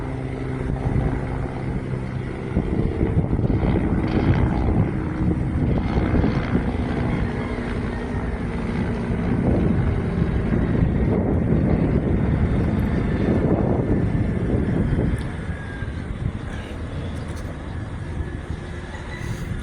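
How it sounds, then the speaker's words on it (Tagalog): A helicopter flies overhead near a muddy shoreline and breakwater. Its rotor drone is loud and steady for about fifteen seconds, mixed with wind buffeting the microphone, then eases slightly as it moves off. "May helicopter."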